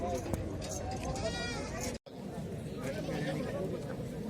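Beetal goats bleat amid a busy livestock market in Tungwali, Bathinda, Punjab, with people chattering and talking in the background throughout.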